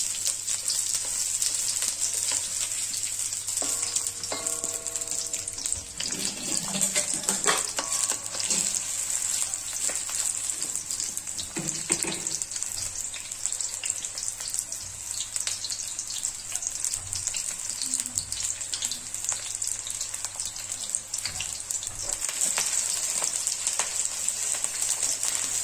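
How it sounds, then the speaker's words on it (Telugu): Sliced onions frying in a pan for paneer butter masala: a continuous bright, even sizzle like light rain, with a few soft utensil clinks and stirs partway through, close and steady. "చూడండి ఫ్రెండ్స్, ఉల్లిపాయలు వేగుతున్నాయి కదా"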